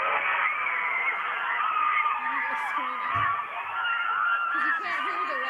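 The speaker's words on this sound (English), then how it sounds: "it's not Redlands cheering, that's his team cheering" A college team cheering and whooping at an award announcement, a muffled crowd with voices rising and falling throughout, heard from some distance as if through a room microphone.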